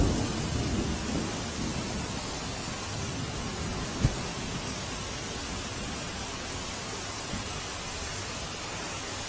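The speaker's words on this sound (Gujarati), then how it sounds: "હવે 24 કલાકથી અવિરત વરસાદ વરસી રહ્યો છે." Heavy, steady torrential rain in Kalyanpur taluka, Dwarka, fills the scene with a dense continuous hiss, and a brief sharp crack of thunder stands out partway through, with no voices.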